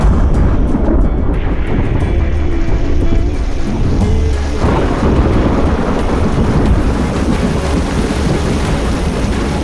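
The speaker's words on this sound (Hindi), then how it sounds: "मॉनसून की बारिश ने गर्मी के मौसम के खत्म होने का इशारा कर दिया।" A heavy monsoon downpour on a tropical Indonesian island, steady loud rain roaring across the whole stretch with low rumbling thunder rolling underneath, dense and unbroken from start to finish with no voices.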